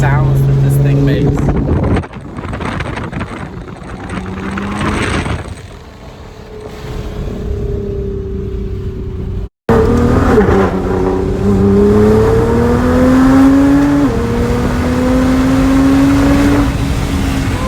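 A 700hp supercar engine accelerating hard while riding inside, loud and close, with rising revs, a brief cut-off, then climbing pulls through the gears as people talk over it.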